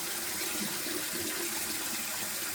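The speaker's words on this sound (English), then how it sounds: "I'll fill it up with water, kind of scrub it out with my hands, and then that water is super murky." Water fills a rice cooker pot as rice is rinsed and scrubbed by hand, a steady close hiss of running water with no talk.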